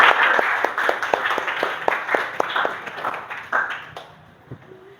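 A classroom group claps in quick, fairly even applause that gradually thins out and stops near the end, recorded close and fairly loud.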